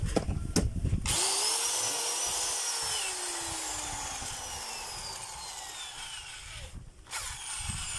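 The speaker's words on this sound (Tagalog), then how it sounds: "Ito yung drill." A power drill being tested whirs steadily for several seconds after a few short bursts of noise, then briefly cuts out and restarts near the end.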